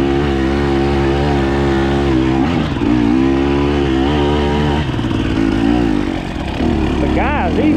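A KTM 250XCW dirt bike rides a trail, its engine droning loud and close with shifting revs, and a voice talks briefly near the end.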